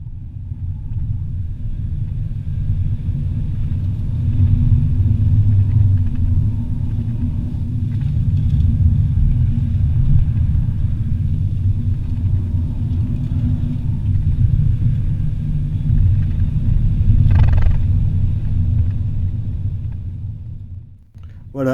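A Tesla Model 3 electric car lapping the Geoparc race circuit: a steady, loud low rumble of road and wind noise runs throughout, swelling gently, then dips briefly near the end.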